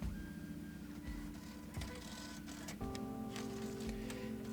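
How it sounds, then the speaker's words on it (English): A cash register's attached receipt printer runs in a small-town shop scene from the indie game Angels with Scaly Wings, a steady mechanical whir under the game's background music for several seconds. "I watched him carefully navigate the register's buttons, soon followed by the sound of the attached printer."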